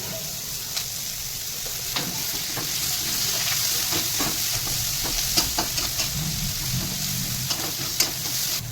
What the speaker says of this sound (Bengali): পেঁয়াজটা হাফ হাফ ভাজা হয়ে গেছে